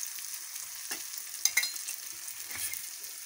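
Boiled potato pieces dropped into onion masala frying in a pan, a soft sizzle with a few clattering stirs and a sharp metallic clink in the middle, close but fairly quiet, no talking.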